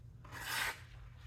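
A single quick stroke polishes the aluminum-handled Kaviso Keen Mini knife blade on a strop. The soft, brief hissing rub sounds close and fairly quiet against a low background hum.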